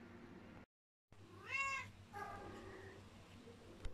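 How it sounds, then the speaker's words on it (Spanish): A house cat meowing insistently in a home during household chores, with one clear drawn-out meow after a brief dropout, followed by a second softer meow, close by over steady room background. "lleva todo el rato maullando detrás de mí"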